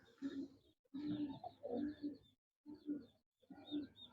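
Breeder pigeons cooing in a loft, soft throaty calls in short bursts separated by brief pauses, fairly close and quiet, with no talk over them.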